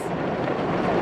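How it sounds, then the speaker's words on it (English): Rain pours at a beach in a loud, dense, continuous hiss with a low rumbling undertone, steady for its whole brief span with no voices. "And so today I came and then it's raining."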